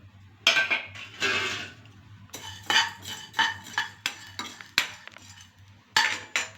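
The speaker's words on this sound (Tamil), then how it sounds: "இப்போ ட்ரையாக வறுத்தரைக்கிறதுக்கு மல்லி, கடலைப்பருப்பு, மிளகு, சீரகம், உளுந்தம்பருப்பு இதெல்லாம் சேர்த்து வறுத்துக்குருவோம்." Dry spices and lentils (coriander seeds, chana dal, black pepper, cumin and urad dal) being tossed and stirred in a dry pan, giving repeated close scraping and rattling bursts with short pauses, no talk.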